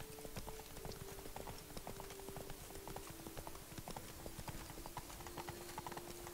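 Roach, a horse in the video game The Witcher 3: Blood and Wine, gallops with steady, rapid hoofbeats that clip-clop continuously and close at hand over a constant background hum, with no one talking.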